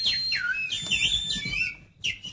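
A young man whistles a short, wavering melodic phrase of rising and falling notes during a stage play, close and clear, breaking off briefly before one last whistled note.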